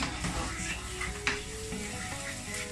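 Onions and garlic fry in a pan for saag aloo, a steady close sizzle with faint stirring scrapes and soft background noise.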